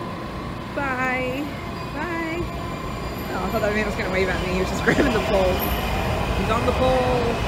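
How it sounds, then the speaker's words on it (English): A Washington DC subway train pulls out of the station with a continuous rumbling roar in the platform space, while people chat nearby over it. "That's our train leaving us."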